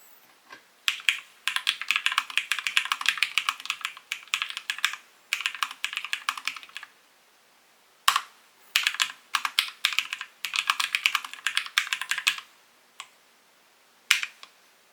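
Close typing on a Hexgears Immersion A3 wireless mechanical gaming keyboard: bursts of crisp, clacky keystrokes in quick runs separated by brief pauses, ending with a few isolated presses, alone in a quiet room.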